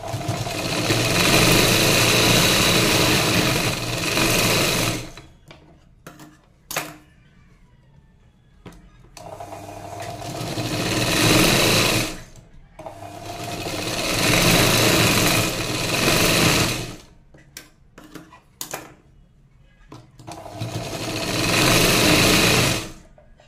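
Sewing machine running straight stitches on a padded blouse, loud whirring bursts of several seconds each separated by short pauses and clicks, close by with no talk.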